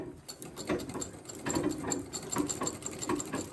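An Elgin treadle sewing machine runs under foot power, its needle and gears clattering in a steady, rhythmic mechanical chug at close range, fairly quiet.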